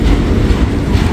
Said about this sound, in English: Probably a pretty heavy train. These auto racks are loaded.